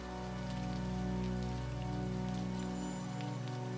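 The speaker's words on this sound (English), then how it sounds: "Let the rain keep its steady pattern on the window." Steady rain patters against a window in a dense, even hiss, soft and continuous, with a low sustained musical drone underneath and no voices.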